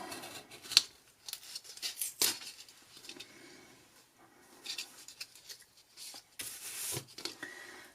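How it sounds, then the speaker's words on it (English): Scissors snip and trim the bottom edge off a handmade rubber stamp at close range, giving a few sharp cutting clicks and papery rustles scattered across an otherwise quiet workspace. "First, I'm going to trim this bottom part off."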